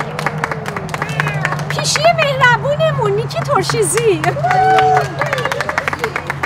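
Scattered clapping from an audience at a Persian language school event for students, running steadily under a voice announcing names over a microphone.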